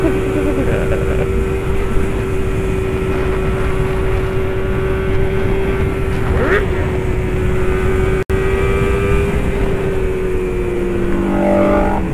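A Kawasaki Ninja motorcycle engine drones loudly and steadily while overtaking on a southern cross-country road in Jember, with a sustained engine tone under heavy wind rush, briefly dropping out midway.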